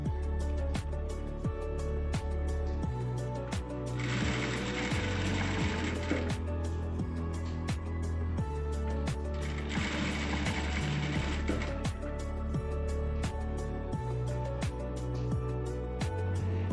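Sewing machine stitching blouse fabric, a rapid steady mechanical chatter with rhythmic needle ticks and two longer bursts of faster whirring running throughout, close and continuous without speech.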